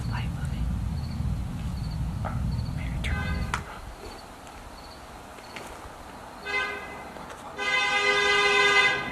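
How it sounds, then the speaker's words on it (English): A car horn toots in short bursts in a quiet night setting, with a louder sustained honk at the end, amid faint insect chirping; people talk around it. "Are they honking at us?"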